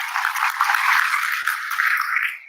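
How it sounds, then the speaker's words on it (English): An audience applauds the panelists at the OSOS Thrive 2025 event, a dense, steady wash of many hands clapping that holds for a couple of seconds before tapering off at the end. "give a big round of applause to all the panelists"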